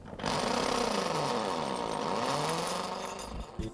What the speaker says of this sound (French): Si vous devez utiliser la scie à cloche